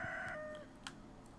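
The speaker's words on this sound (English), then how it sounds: "Rooster says, wake the fuck up." A rooster crows in the farming video game Stardew Valley, one short bright call sliding downward, fairly quiet and heard alone.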